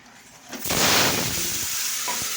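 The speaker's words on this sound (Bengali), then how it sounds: "তো বেগুন তো দেখো ভাজা হচ্ছে" Eggplant fries in a pan with a loud, close sizzle that surges up suddenly and then holds as a steady, broad hiss with faint spatters.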